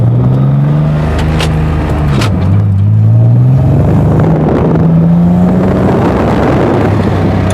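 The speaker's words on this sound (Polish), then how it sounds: "Jeszcze mu chyba trochę zapłonik wypada, co?" A BMW E36 engine runs with a slight ignition misfire, a loud steady rumble with pitch shifts as it revs up and down during a test drive, with no talk.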